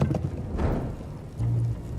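Horses' hooves clopping in a Game of Thrones video game, a short burst of close, loud hoof beats with no talking.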